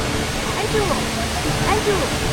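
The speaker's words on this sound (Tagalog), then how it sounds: "we are here naman sa pinakaitaas ng waterfall" The indoor waterfall at Changi Airport in Singapore roars as a steady, dense rush of falling water from near its top, with voices talking in the busy space under the constant wash.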